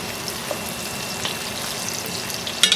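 Asparagus frying in a hot pan while being stirred for pasta primavera, a steady soft sizzle running throughout with a few light scraping stirs and a brief louder clatter near the end, no voices.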